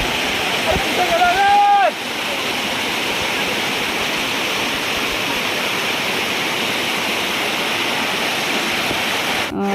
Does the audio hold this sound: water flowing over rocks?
yes